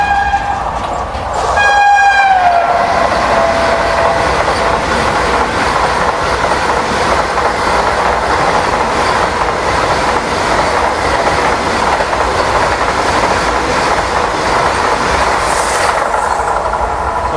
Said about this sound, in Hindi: ये आ गई वाराणसी वंदे भारत एक्सप्रेस।